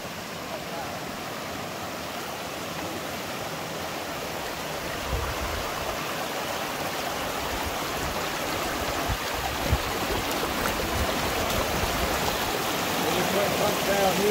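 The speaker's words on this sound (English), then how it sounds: "that's where it's a big hole in the wall and a cave and it's just pouring out" Water pours out of a hole in a cave wall at the Baslay hot springs in the Philippines, a steady, broad rushing roar that swells slightly louder partway through, with no voices.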